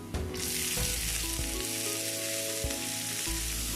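Chopped broccoli hits hot tempered oil in a pan and sets off a loud, steady sizzle that stays close throughout, with a few light knocks of stirring and no one speaking.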